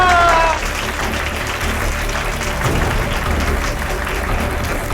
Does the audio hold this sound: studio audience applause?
yes